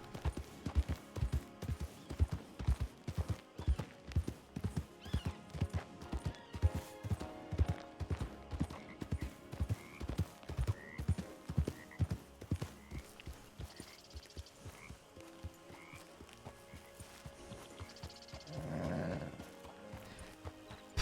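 Horse hooves clip-clop in a steady walking rhythm in the Western role-play game Red Dead, close and distinct, slowing and fading toward the end with a brief whinny-like swell.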